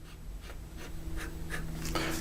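A steel-nibbed Wancher Maki-e fountain pen scratches across paper in a handful of soft, close strokes, faint and scratchy over a low steady hum, without any talking.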